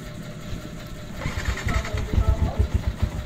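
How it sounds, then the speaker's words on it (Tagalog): A Bajaj Sniper 150 motorcycle engine cranks and catches after an electrical fault, a close, rough starting rumble turning into uneven putting pulses that grow stronger toward the end. "Yan, so umandar na yung motor natin guys."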